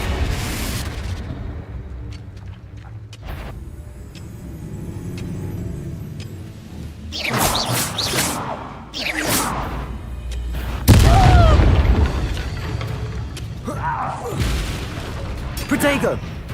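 Hogwarts Legacy spell combat with Incendio and Confringo fire blasts, heavy booming impacts and crackling bursts rising over a steady rumble, with a loud explosion near the middle.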